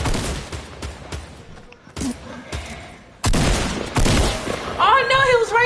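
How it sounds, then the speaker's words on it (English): Rapid gunfire aimed at the player in Fortnite, bursts of shots cracking out between quieter gaps, loud and close, with a voice talking over the later part. "Who's shooting at me?"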